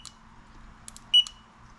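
GOYOJO digital torque wrench adapter giving a few short, high electronic beeps as its screen lights up, quiet and close with nothing else over it.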